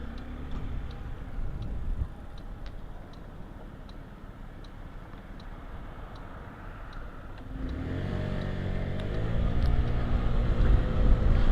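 Cars turning through an intersection in Machida, Tokyo: a steady, moderately distant traffic rumble with faint rhythmic ticking throughout, swelling louder in the final seconds as a vehicle accelerates closer.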